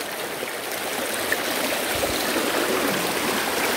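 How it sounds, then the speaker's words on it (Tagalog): Fast-flowing creek swollen by rain at Kawasan, Siquijor, rushing in a steady, dense broadband roar close by, with no voices over it. "Sapa. Malakas ang tubig kasi nga ulan."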